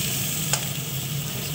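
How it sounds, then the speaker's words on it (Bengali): Whole potatoes frying in oil in a kadai, a steady close sizzle with faint stirring, continuous and fairly quiet throughout with no talking. "গোটা গোটা আলু ছেড়ে দিলাম, কড়াইয়ে কেটে দেবো,"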